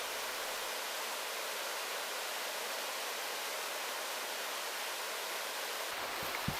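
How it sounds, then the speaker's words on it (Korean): A clear mountain stream in Gucheondong valley rushes strongly past, a steady, dense broadband roar of flowing water heard close and alone, with no voices. "맑은 계곡물이 힘차게 흘러갑니다."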